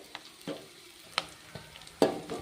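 Sliced onions frying in a pan toward golden brown for a tomato gojju, a soft steady sizzle broken by a handful of distinct scraping stirs at uneven intervals, close and quiet, with no talking.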